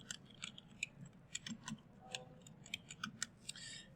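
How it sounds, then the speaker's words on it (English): Rapid, uneven keystrokes tapped on a computer keyboard while a calculator is being used for an algebra problem, giving a quiet, close run of light clicks with short pauses and no talking. "I'm just typing it in with my keyboard"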